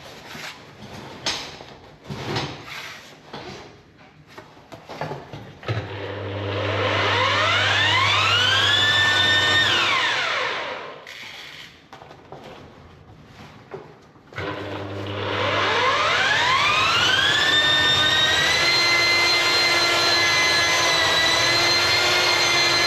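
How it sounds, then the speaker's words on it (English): A drain cleaning machine spins chains inside a 4-inch pipe, a loud whining motor that rises sharply in pitch and holds steady, cutting out briefly before spinning up again for a second long run. "So what we're going to do is machine backwards, and hopefully we should see the chains coming back through and cleaning that pipe."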